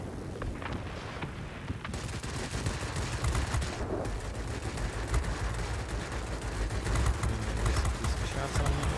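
Aircraft machine-gun fire from a Spitfire DB605 in the World of Warplanes video game, a dense continuous rattle of rapid shots over engine roar, loud and sustained throughout.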